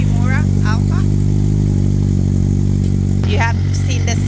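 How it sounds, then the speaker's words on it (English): Suzuki GSX-R motorcycle with a Yoshimura Alpha exhaust, heard as a loud steady rumble throughout with a sharper clattering burst near the end, while someone talks over it. "That's the exhaust. It's the Yoshimura Alpha."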